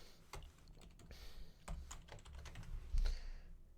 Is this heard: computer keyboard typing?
yes